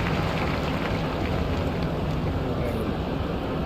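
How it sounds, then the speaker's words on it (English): Heavy rain shower in the cricket video game Cricket 07, during an Ashes 2005 test match scenario: a dense, steady broadband hiss of rainfall holding constant and loud throughout, with no breaks. "This is a very heavy rain shower."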